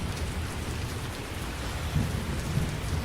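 Steady rain pours down through a stormy night, with low rumbles of thunder swelling in the background near the end; no voices.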